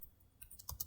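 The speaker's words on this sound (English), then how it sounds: "for description, we will say tree trimming" Brief burst of typing on a computer keyboard while entering a service description in accounting software: a handful of quick close key clicks after a short quiet moment, with no talking.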